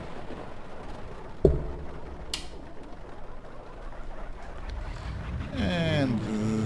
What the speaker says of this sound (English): Let's start up the engines.